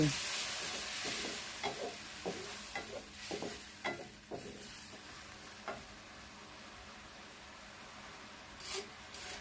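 Pork with seasoning and a splash of water stir-fried in a pan, with soft scraping strokes of a spatula repeating over a low sizzle, fairly quiet and close.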